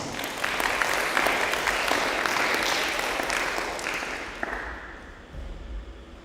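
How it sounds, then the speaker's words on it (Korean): Church congregation at a Sunday service applauding the teachers and children, a dense burst of clapping that holds strong for several seconds and then tapers off near the end. "선생님들과 우리 아이들을 위해서 힘찬 격려의 박수 드리겠습니다"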